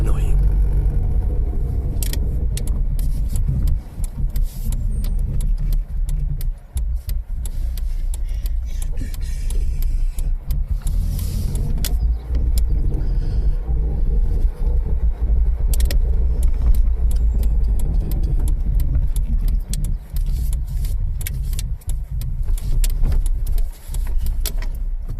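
A Pepper Red Ford Fiesta MK4 1.3i drives along a road, heard from inside as a loud, steady engine and road rumble that continues throughout, with a voice now and then underneath.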